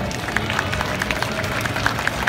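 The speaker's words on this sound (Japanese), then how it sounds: "大きな拍手ありがとうございます" Clapping from a small group at a cosplay stage event, fairly close, with a few sharp individual claps standing out over a scattered crowd murmur.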